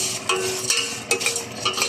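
Vermicelli and rice for Egyptian kushari are stirred in a hot pan, giving close bursts of scraping and sizzling in an uneven rhythm, with no voices.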